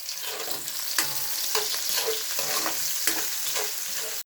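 Chopped garlic and sliced onion sauté in a hot pan for a beef mechado, with a steady loud sizzle broken by regular scraping strokes of stirring, close up and without voices.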